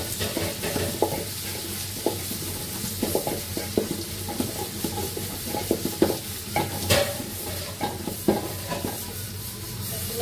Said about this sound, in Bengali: তার জন্য আমি পেঁয়াজের বেরেস্তা করে নিচ্ছি।